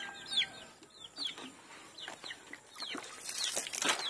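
Rhode Island Red chickens cluck at feeding time on a farm, with repeated short clucks and squawks from several birds, fairly faint, building into a busier burst of calls near the end.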